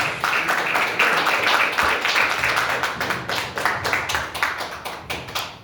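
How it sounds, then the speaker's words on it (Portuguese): A church congregation claps steadily, many hands overlapping into sustained applause with a lively, rhythmic patter. "e as palmas é para Jesus, irmãos"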